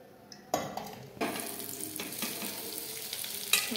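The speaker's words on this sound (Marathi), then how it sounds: "आता आपण फ्राय करूया." Stuffed okra frying in hot oil in a wok, a sudden sizzle as it goes in, then a steady crackle with occasional sharp stirring scrapes and a clink near the end.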